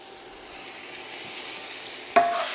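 Noodles and vegetables stir-frying in a hot wok, a steady loud sizzle throughout with one brief clank of a utensil near the end; no voices.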